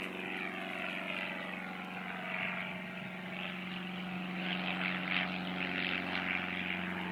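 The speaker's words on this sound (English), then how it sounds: "And a plane's taking off from the airport right now." A propeller plane takes off from a nearby airport, its engine a steady, droning buzz with a low throbbing hum that swells slightly as it climbs, heard continuously outdoors without talk.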